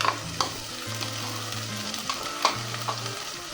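Garlic and ginger paste sizzles and fries with browned onions in a pan for a Bengali beef dish, with steady frying hiss and a few sharp stirring scrapes, under faint background music.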